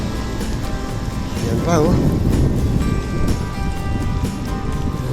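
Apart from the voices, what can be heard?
heavy rain during a ride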